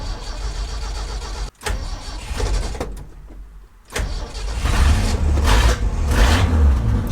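An Acura Integra that has sat unused for a while cranks with a brief stutter, falls quiet, then catches and fires up into a loud, steady running engine close by, with no talking over it.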